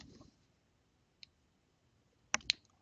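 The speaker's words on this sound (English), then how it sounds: "Now I want to come down and left click." A computer mouse gives a few crisp left clicks in near silence: a tiny tick early on, then two sharp clicks in quick succession close to the microphone.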